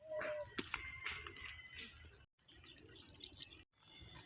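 Water trickles and drips into a flour and semolina batter, soft and close, with brief pauses between pours.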